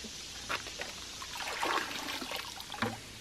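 Water splashing and trickling as fine sediment is rinsed out of a ram pump's low-flow intake bucket, with irregular close pours and sloshes running throughout.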